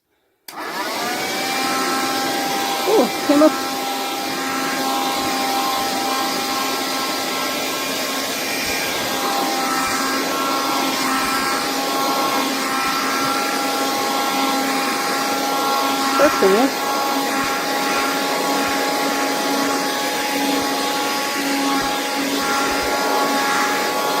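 Handheld car vacuum cleaner running steadily and loudly close by for the whole stretch, a constant motor whine with brief pitch shifts as it picks up debris, with a short remark spoken over it.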